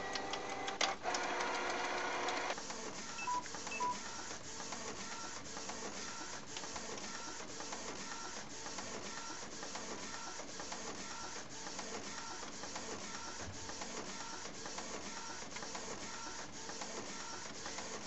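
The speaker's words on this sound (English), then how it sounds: "as you can see, the page is printing pretty much perfectly" A printer runs continuously for a page sent from a Samsung Galaxy Note 2 phone, its feed mechanism whirring and clicking in a steady mechanical rhythm, fairly quiet and close, with a busier burst of motor noise near the start and no talk.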